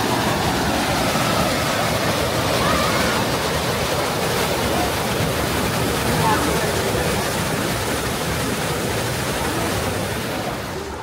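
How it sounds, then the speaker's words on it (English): Broad, steady rushing water from a rapids ride at Silver Dollar City theme park in Branson, Missouri, roaring loud and continuous throughout like a churning waterfall, with crowd chatter faintly mixed in. "let's see if we can get over here and ride the Rapids"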